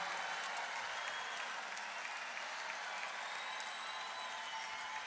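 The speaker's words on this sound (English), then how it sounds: "let's give her a huge hell of a lot of applause right now" Concert audience applauding loudly at a 2019 tribute show in Broomfield, Colorado: dense, sustained clapping and crowd noise at an even level throughout.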